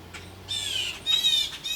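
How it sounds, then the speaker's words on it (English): A blue jay gives loud, harsh squawking calls outdoors, two raspy bursts close by over a quiet background, with no talk. "There's a blue jay there."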